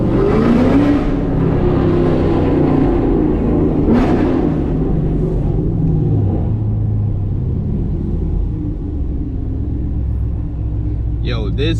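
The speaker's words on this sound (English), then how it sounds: "just hearing this car, bro, will make you fall in love with a fucking manual V8" A Chevrolet Camaro SS 1LE with a manual V8 rumbles deep and loud from inside the cabin while driving, revving and then settling into a steady drone, with voices talking over it.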